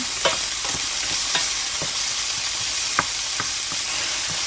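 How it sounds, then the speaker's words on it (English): White onion sautéing in a skillet with aromatics, giving a steady close sizzle with soft stirring scrapes that recur every second or so, alone without talk. "we're just going to saute this until the onions turn a little translucent and maybe caramelize a little"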